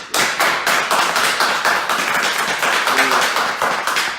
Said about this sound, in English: One more round of applause to them.